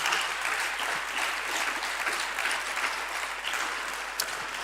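A congregation in church gives a loud round of applause to the Lord, dense sustained clapping filling the room for several seconds.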